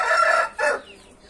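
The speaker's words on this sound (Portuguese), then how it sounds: "O pai desse galo aí" A rooster crows close by in two loud bursts, the second one shorter and trailing off, with no talk.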